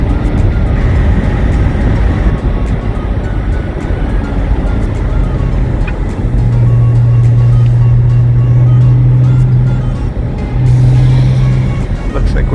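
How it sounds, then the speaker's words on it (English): A 2001 Porsche 986 Boxster Gemballa Avalanche engine drones steadily from inside the car while driving, with a low hum and a strong steady tone as revs climb, under the driver's ongoing talk. "I do want to get the RPMs up a little bit so you can hear how nice the engine sounds."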